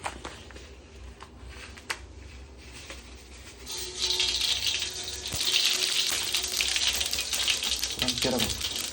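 Mustard seeds and cumin sizzling and crackling in hot oil on a low flame, a steady bright frying hiss that swells louder partway through, with faint talk underneath.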